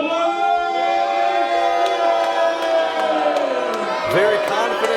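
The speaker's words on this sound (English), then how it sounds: "treated to a series of cheers here by the crowd" A wrestling arena crowd cheers and whoops for Lenny Lane's media consultant Crisco, a steady roar of many voices with scattered shouts, while an announcer's voice rides over the noise.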